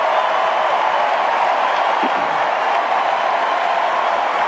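A large crowd cheering and applauding at a US national party convention, a dense continuous roar of clapping and voices at full volume, sustained throughout without breaks.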